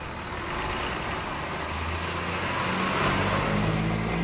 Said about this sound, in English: On a cold, windy morning, a white bus drives up to the gate.